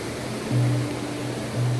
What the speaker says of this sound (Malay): Sungai waktu malam-malam.